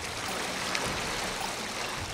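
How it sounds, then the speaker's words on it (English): Industrial effluent laced with petrochemicals pours into the Ngong River in Nairobi's industrial area, a steady, dense rush of flowing water that holds constant throughout with no pauses. "On the banks of Ngong River in industrial area, this is what you will find: discharge of petrochemicals from the industries."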